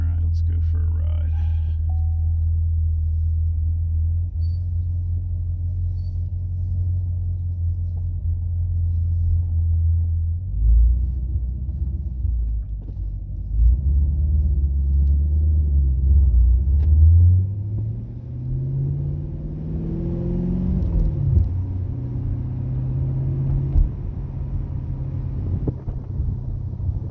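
A 6th gen LT1 Camaro drives on the road, heard from inside as a steady low engine rumble with wind noise, the engine note rising and falling through gear changes and acceleration, with talk over it.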